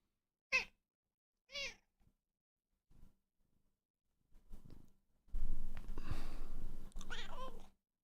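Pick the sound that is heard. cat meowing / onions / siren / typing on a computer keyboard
cat meowing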